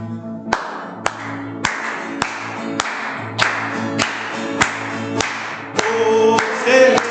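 A church congregation claps along in steady rhythm to a hymn about warriors following Jesus, about a dozen evenly spaced sharp claps with sustained organ-like music underneath, getting fuller toward the end.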